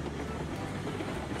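Train running in the Railroads Online video game, a steady, loud rumble of rolling wheels and engine noise across a short stretch, with no talk.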